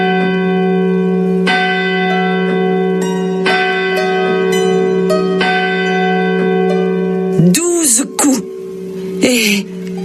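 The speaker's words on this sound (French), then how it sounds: "la cloche du village sonne midi" A village church bell strikes noon with steady, resonant tolls ringing out and sustaining, then a few sharp vocal sounds like gasps or cries break in near the end.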